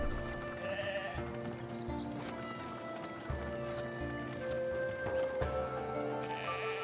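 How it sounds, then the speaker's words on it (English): Sheep bleat in the Foundation video game amid a busy village soundscape with hoof clops and soft background music, the calls fairly quiet and scattered. "Look at the sheep, they're probably nom-nomming through all of this, all of the wheat."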